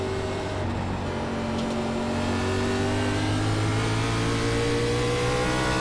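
A stock car engine drones steadily in a NASCAR iRacing race at Nashville Fairgrounds Speedway, its loud sustained note rising and falling slightly through the gears, with no talk over it.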